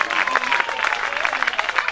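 Audience applause at a youth awards ceremony honouring local groups, a dense steady patter of many hands clapping close by for the full stretch, with a voice speaking over it.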